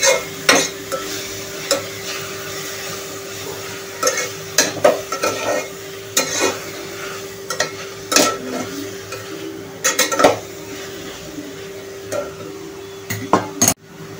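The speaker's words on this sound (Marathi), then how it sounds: "पहिले परतून घेऊया" Chandan batwa leafy greens stir-fried in a pan over high flame: a continuous sizzle broken by sharp, irregular scrapes and clinks of the spatula against the pan, close and fairly loud, with no speech.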